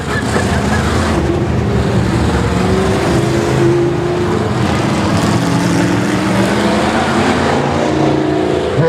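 Race cars in a pro main event on a night oval track roar together in a continuous loud, steady engine drone with revving swells, close and dense, under faint commentary.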